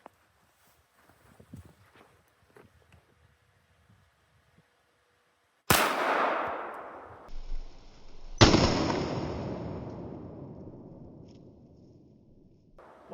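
Two loud, sharp gunshots from a Walther WMP .22 WMR pistol aimed at an apple target 10 yards away, each with a ringing decay, after a near-silent stretch.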